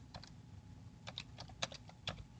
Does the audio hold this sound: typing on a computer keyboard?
yes